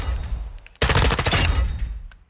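Tap-fired bursts from an MK18 CQBR MOD 1 rifle on a range in Call of Duty Modern Warfare II, a loud dense volley of close shots after a few faint pops, tailing off into scattered echoing reports.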